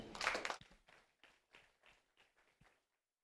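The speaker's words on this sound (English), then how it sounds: "Can we clap for him?" An audience claps for a guest speaker at a career fair, starting with a dense burst of applause that quickly thins into a few scattered, fading claps.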